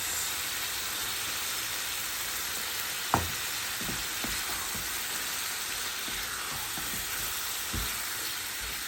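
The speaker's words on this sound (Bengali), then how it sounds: "মশলাটা কষানো হয়ে গেছে এখন আমি মাছটি দিয়ে দেবো" Shoal fish (shol mach) frying in cooked-down spice masala gives a steady, broad sizzle with a few soft stirring knocks and one sharp tap partway through, close and unbroken, with no voices.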